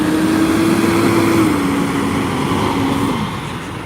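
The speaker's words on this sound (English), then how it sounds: "let's let this truck go by with the noise." A truck drives past along a road during an evening walk, a loud steady engine rumble with a droning tone that lowers in pitch as it passes close by, then fades slightly toward the end.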